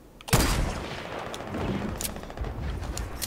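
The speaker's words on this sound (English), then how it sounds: "Stop shooting me from down there." Gunfire in a Fortnite Team Rumble match: a sudden loud burst of shots opens a rapid, rattling fusillade, followed by scattered sharp cracks and echoing booms.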